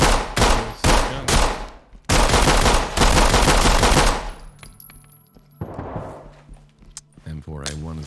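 Gunfire in a first-person shooter video game, with loud sustained automatic bursts in the first half, followed by quieter single shots and mechanical clicks. Someone talks over parts of it.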